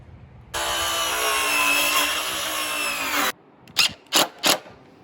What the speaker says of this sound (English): we'll just cut this off with the saw